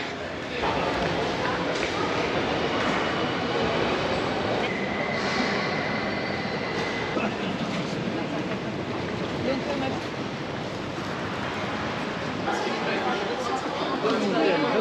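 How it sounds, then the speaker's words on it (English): A train rumbles steadily in a busy Swiss railway station, with a constant mechanical roar and crowd chatter throughout. "It looks like the next train that will take us to Montreux is 1611"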